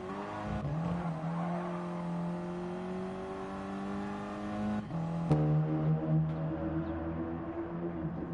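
A hot hatch race car in Gran Turismo Sport holds a steady engine drone, then brakes hard with a sharp tire squeal as the engine pitch drops. The sound comes through loud and alone, with no voices.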